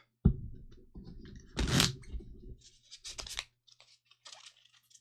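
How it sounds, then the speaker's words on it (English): A deck of game cards being shuffled by hand, with a sharp riffle burst followed by softer scraping and sliding of cards, close and alone without speech. "First, we got to shuffle these up."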